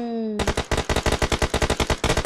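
Rapid automatic gunfire in a video game, a steady close burst of about twenty evenly spaced loud shots that follows a short held electronic tone.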